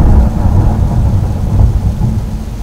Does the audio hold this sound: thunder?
yes